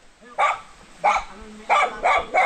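A dog barks five times in short separate bursts, close and loud, with faint background noise between barks.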